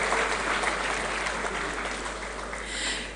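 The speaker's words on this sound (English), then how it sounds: "A round of applause for Jacko Nimo and Dada Demagofoma." An audience applauds steadily at a university engineering graduation ceremony, a dense, even wash of clapping from many hands that swells slightly near the end, with no voices over it.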